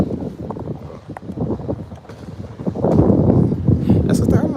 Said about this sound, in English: I know y'all hear it wind blowing and everything.